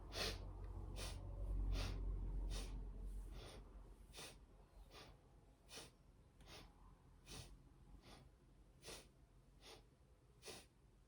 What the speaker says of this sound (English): Make the breath audible